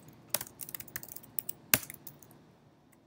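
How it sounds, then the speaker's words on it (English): Quiet clicking of fingers on a computer keyboard, with a few scattered keystrokes and one sharper tap, close and faint, without talking. "So I'm just going to type 256."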